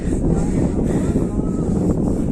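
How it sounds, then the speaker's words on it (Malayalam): Steady wind rushing and buffeting the microphone outdoors on a hilltop, a constant low roar with slight gusts throughout. "കാണിച്ചു തരാം നല്ല കാറ്റുണ്ട്"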